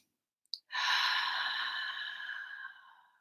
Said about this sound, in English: Breathe in 3 times, out through the mouth